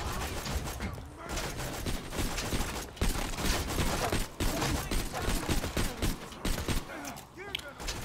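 Gunfire in the video game Borderlands 2, dense rapid bursts of shots in a continuous loud barrage, with voices talking over parts of it.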